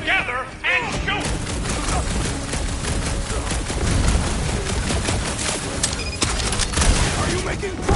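Video game gunfire from Guardians of the Galaxy, rapid volleys of shots with crashes and thuds in a dense, loud battle mix, with game voices and music mixed in.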